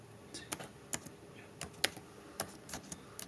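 Quiet typing on a computer keyboard while entering a terminal command, a sparse run of light, irregular key clicks spaced across a few seconds with no talking.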